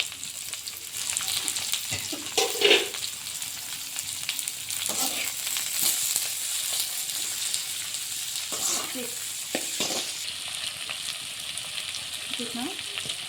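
Cabbage, onions and curry leaves for egg noodles frying in a pan, an even close hiss with a few louder stirring scrapes and clinks scattered through, no speech.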